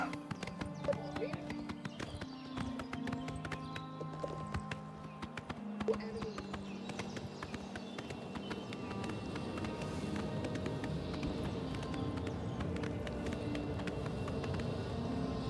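Steady clip-clop of horse hooves at a gallop in Elder Scrolls IV: Oblivion Remastered, continuous and fairly close, with game music and ambient sound layered underneath.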